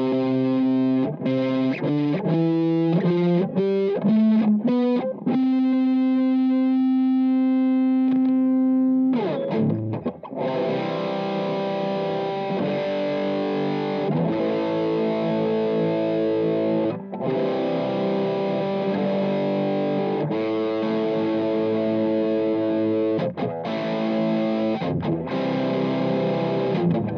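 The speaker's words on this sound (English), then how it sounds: "That was a quick overview of the Wampler Plextortion Distortion." Electric guitar played through a Wampler Plextortion distortion pedal, heavily overdriven: a run of picked notes, a sustained ringing note, then loud chugging chords and riffs continuing steadily, with no talk.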